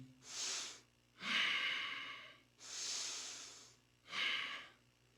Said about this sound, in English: relaxing the lower back and the butt, and then do long, deep breathing